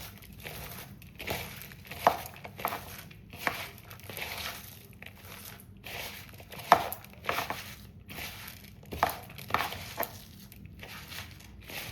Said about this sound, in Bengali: এবার ভালো করে এটাকে চটকে নিচ্ছি।